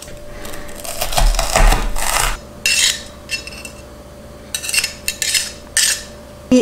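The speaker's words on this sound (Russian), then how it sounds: "И вот у меня такая давилка, она давит мелкими кусочками. Добавляем чесночок сюда." Metal garlic press crushing garlic cloves for a roasted sweet pepper salad, giving a run of close, sharp metallic clicks and clattering scrapes in uneven bursts with brief pauses, no voices.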